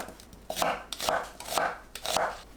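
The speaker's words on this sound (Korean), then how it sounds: "양파를 1cm 간격으로 썰어주세요" A knife cuts an onion into 1 cm slices on a board, four evenly spaced crisp chops about half a second apart, close and fairly quiet, with no talking.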